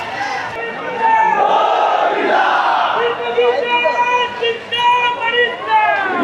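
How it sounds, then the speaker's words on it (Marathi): A large, dense crowd gathers at the Chinchpoklicha Chintamani Patpujan ceremony in Mumbai, with loud chanting and shouting voices rising together close by over a constant babble. "तर यावर्षी गर्दी जास्त आहे"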